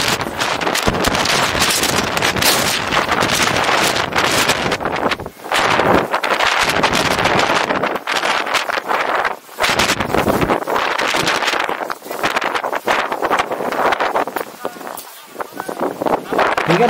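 Strong wind storm on Mount Kembang, carrying sand and buffeting a pitched tent, roaring continuously with loud gusts and flapping fabric close to the microphone, barely easing for brief moments.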